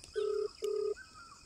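A telephone ringback tone pulses twice in a call to a public works department office in Darjeeling, each long steady burr followed by a pause, close and clear with no talking.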